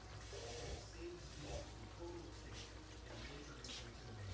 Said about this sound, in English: So I'm going to put some water in the can to get the goodness out of there.